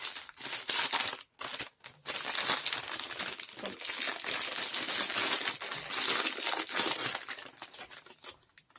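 Continuous crinkling and rustling of a crisp paper wrapper on BN biscuits, handled close up, with a couple of brief pauses.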